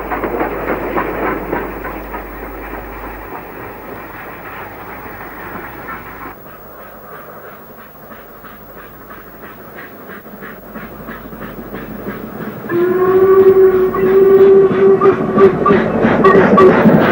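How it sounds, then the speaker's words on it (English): Freight train followed by a passenger train on the Mold to Ruthin branch line near Bodferry in 1962, a steady rolling rumble with rhythmic clicking that grows louder and closer near the end, with a bright whistle-like tone. "A freight train from Mould is followed by a passenger train from Denby, curving away towards Bodferry"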